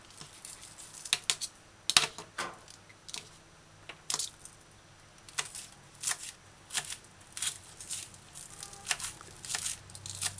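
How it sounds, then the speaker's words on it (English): A knife dices scallion on a cutting board, a series of soft, irregular chopping taps and light thuds close by in a quiet kitchen, with no voices. "Now, after all that, dice scallion."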